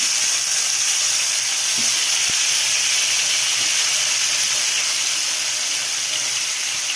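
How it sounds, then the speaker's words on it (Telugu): Chopped tomatoes dropped into hot oil for Telugu jonna sangati give a steady, loud broadband sizzle with no voices, holding evenly throughout. "అలాగే కొంచెం ఆయిల్ వేసి మరి మనం కట్ చేసి పెట్టుకున్న టమోటాలు అయితే వేసుకుందాం"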